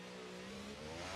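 An F1 race car engine in a video game, set at Spa, revs in one brief, faint, high whine that rises in pitch toward the end.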